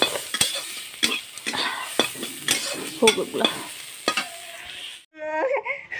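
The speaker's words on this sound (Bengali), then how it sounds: "এদিকে করছি শাক ভাজা" A spatula scrapes and stirs saag greens frying in a pan, giving a crisp sizzle with irregular knocks and scrapes. A few quiet words come near the end, followed by a brief infant whimper.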